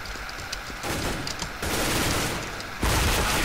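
AK rifle fire in CS:GO, dense bursts of rapid automatic shots, loud and close, growing heavier in a few sustained volleys.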